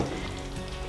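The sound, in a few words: stirring sizzling pork pot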